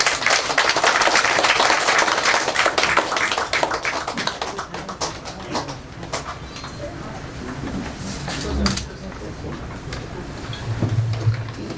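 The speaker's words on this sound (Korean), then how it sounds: "큰 박수 부탁드립니다." An audience claps for a poet at a poetry recital lecture, dense applause at first that thins out into scattered claps, with faint murmuring and shuffling as it dies away.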